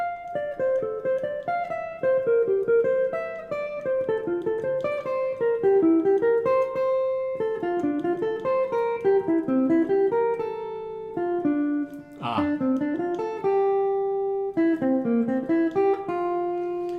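Piano chords played one after another at a moderate pace, ringing and shifting harmonies, with no voice.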